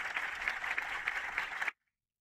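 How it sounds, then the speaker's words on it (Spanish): A crowd clapping together in a steady, dense patter of many hands at moderate distance, holding evenly for under two seconds before cutting off abruptly into silence. "Todos aplauden después, todos aplauden después."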